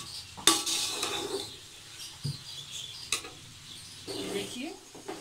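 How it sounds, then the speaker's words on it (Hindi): Chicken fried rice being stirred and mixed in a pan, with sharp scrapes and clinks of a utensil against metal at irregular moments over a soft background, fairly close and moderately quiet. "देखिए मैंने इसका मिक्स कर लिया"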